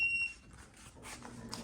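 A Toshiba 14000 BTU portable air conditioner gives a single short, high electronic beep as it is switched on, then a quiet room hum follows.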